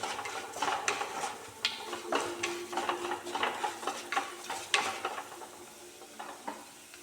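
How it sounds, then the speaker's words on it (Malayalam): Ginger and green chilli frying with turmeric powder in a pan, stirred steadily with a spoon: a constant soft sizzle broken by irregular scraping clicks of metal on the pan, close and clear, with no talking. "ഇതിൻ്റെ പച്ചത്തവ മാറും വരെ ഒന്ന് ഇതിനെ ഇളക്കി കൊടുത്ത് കൊടുക്കാം"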